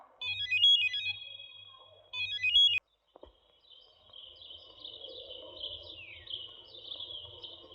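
A telephone rings in two loud electronic bursts, then stops; afterwards a softer trilling, chirpy tone continues in the background.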